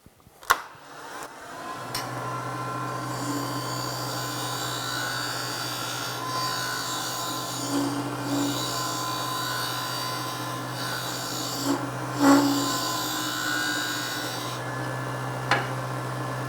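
A negative rake scraper with a clean, hookless edge drawn across wood and lifting shavings, a continuous soft scraping hiss with a few sharper clicks, close and alone over a steady low background hum.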